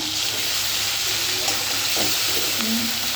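Ginger paste fries in a wok with fried tomatoes for a katla fish curry, giving a steady broad sizzle with a few faint clinks of stirring.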